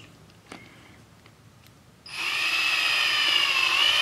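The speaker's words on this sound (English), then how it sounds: "So what I do is I'll take a drill and put my 3/8 drive adapter in there" A cordless drill fitted with a 3/8 drive adapter and 5/8 socket runs in reverse, whirring steadily and close for about two seconds after a few faint clicks and a quiet lead-in.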